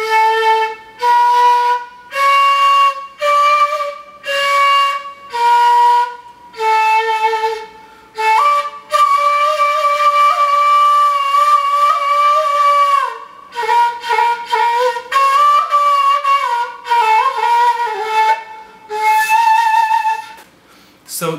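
A kawala, an end-blown ney flute, plays a slow Hijaz makam phrase. Breathy sustained notes are separated by short pauses, and the playing builds into a longer continuous run in the middle, close and fairly loud throughout.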